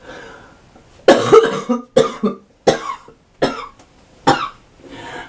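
A series of harsh coughs, about six separate bursts spaced irregularly, close and fairly loud, with no talking.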